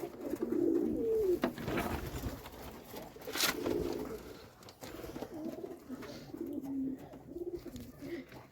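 A domestic pigeon coos softly several times at close range over a background of low ambient noise.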